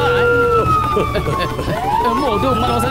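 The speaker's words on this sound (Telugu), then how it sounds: "పోలీస్ సైరన్ వినగానే నా కాళ్ళు వాటంతా అవే పరిగెత్తాయి" A police siren in a 3D animated cartoon wails loudly and close by, its pitch sweeping up and down continuously throughout.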